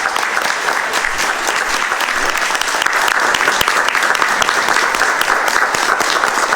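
Sustained, loud applause from a standing audience at a Birmingham city council meeting honoring a Delta Sigma sorority, steady dense clapping throughout with faint crowd murmur.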